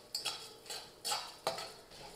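A spoon stirs chana dal and urad dal dry-roasting in a pan over a low flame, giving soft scraping clicks and light tapping in an irregular rhythm, quiet and close with no talking.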